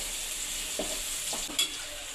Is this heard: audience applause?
no